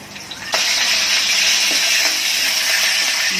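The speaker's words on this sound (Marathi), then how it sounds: "आता फोडणीला अगोदर आपण कढीपत्ता टाकून घेऊया," Curry leaves dropped into hot oil for tempering set off a sudden loud, steady hiss and sizzle that keeps going, with a few faint clinks beneath it.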